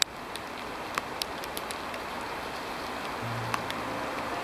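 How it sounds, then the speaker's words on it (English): Rain patters steadily in a Finnish forest in early May, a soft continuous hiss with scattered nearby drops ticking on surfaces, fairly faint and without voices. "Rain is getting stronger."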